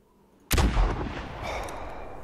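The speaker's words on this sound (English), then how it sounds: "Gonna try for a longer-range moose shot." A single long-range rifle shot at a moose in the hunting game theHunter, a sudden loud crack with a heavy boom that rolls out into a long, fading echo across open terrain.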